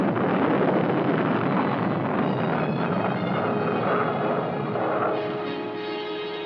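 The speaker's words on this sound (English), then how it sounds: "Nike Zeus, the Army's anti-missile missile, is undergoing tests in the research and development stage like this launch." A Nike Zeus anti-missile missile lifts off in a test launch with a loud, continuous rocket roar and wind-buffeted rumble that holds steady and then eases slightly toward the end.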